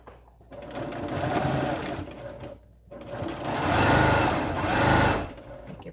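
A sewing machine stitches a reversible face mask in two close, loud runs of rapid whirring, separated by a short pause, with a soft voice faintly underneath.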